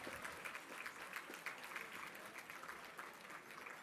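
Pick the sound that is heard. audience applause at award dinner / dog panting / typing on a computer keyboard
audience applause at award dinner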